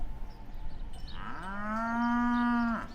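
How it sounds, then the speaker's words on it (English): A Holstein dairy cow lets out one long, low moo that swells and then cuts off, close by, over faint farmyard background noise. "All you see is Holstein cows munching in stanchions and pens yawning out into the distance."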